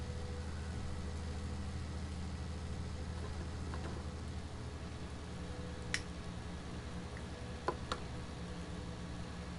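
Steady low idle of a Deutz tractor engine in Farming Simulator 19, a constant droning hum with a few faint ticks and clicks over it, no voices.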